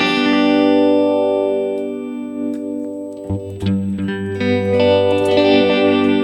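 Sustained high-gain electric guitar chords through a panning stereo phaser on a Valeton GP-200, with a sweeping, swirling modulation that shifts across the tone, played alone with no voices.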